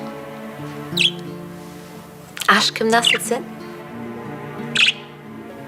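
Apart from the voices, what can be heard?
pet budgerigars chirping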